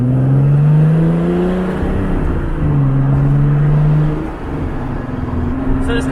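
Turbocharged VR6 engine with individual throttle bodies in a Rabbit GTI, revving loud and close with sustained droning pulls that rise and fall twice before settling into a rougher idle.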